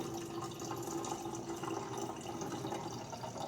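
Distilled white vinegar pours from a bottle into a container, a soft, steady trickling stream that runs continuously and faintly without any talking.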